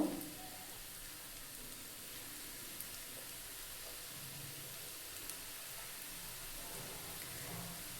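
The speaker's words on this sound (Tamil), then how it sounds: "நம்ம ரெடி பண்ணி வச்சுருக்க கருவாடை ஒன்று ஒன்றா போட்டு எடுத்துக்கலாங்க. பாருங்கள், போடும்போது இப்படி சவுண்ட் கேட்கணும்." Dried fish pakoda pieces fry in hot oil, a steady, fairly faint broadband sizzle that continues evenly without a break, with no voices over it.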